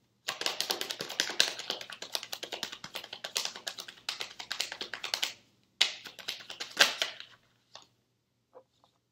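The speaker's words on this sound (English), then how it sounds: "All right, last shuffle." Tarot cards being shuffled as a deck, a dense run of crisp riffling clicks and taps for about seven seconds with brief pauses, then a few isolated snaps trailing off near the end; no talking.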